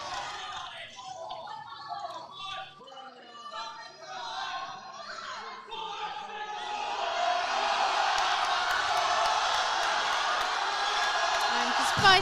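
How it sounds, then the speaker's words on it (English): Spectators cheer and yell for a lifter's 300 kg conventional deadlift attempt at the Oxford vs Cambridge Varsity powerlifting meet; a commentator talks over the early part, then the loud, sustained crowd roar builds and holds to the end. "crowd really behind him now."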